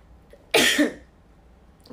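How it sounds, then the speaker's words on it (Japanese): A single sharp sneeze bursts out close to the microphone, a short forceful blast that fades quickly and is followed by near silence. "ほんと、くしゃみが。"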